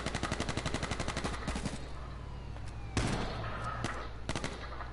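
Rapid automatic gunfire in the battle-royale game H1Z1, a fast run of loud shots at the start and then scattered single shots and bursts, close and sharp against steady game ambience.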